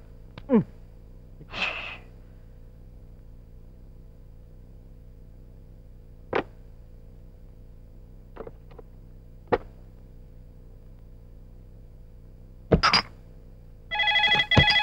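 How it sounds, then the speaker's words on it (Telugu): In a 1995 Telugu comedy scene, a telephone rings near the end in short, bright electronic bursts, preceded by several isolated clicks and soft sounds in an otherwise quiet room. "అల్లుడు ఫోన్ రా ఎత్తు"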